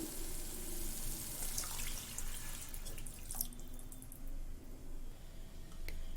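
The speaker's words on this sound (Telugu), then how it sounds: "2 మినిట్స్ అయ్యాక నేను ఇందులోకి 2 గ్లాసుల నీళ్లు వేస్తున్నాను" Two glasses of water poured into a pan of simmering Goan ros gravy, a steady splashing trickle that runs continuously for several seconds at close range with no voices.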